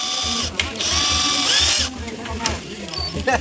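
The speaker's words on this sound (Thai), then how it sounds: "ใเจาะรูก่อนนะครับไม้ไผ่จะได้ไม่แตก" A power drill bores holes through bamboo for a homemade bamboo bench, its motor whining up and down in short bursts over a steady low mechanical rattle, close by, with voices mixed in.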